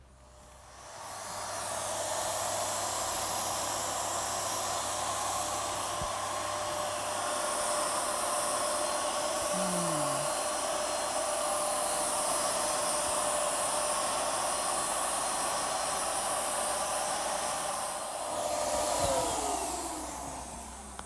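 Spray gun applying Chalk Paint lacquer, a strong steady airy hiss running almost unbroken and close for about twenty seconds, with a low hum underneath.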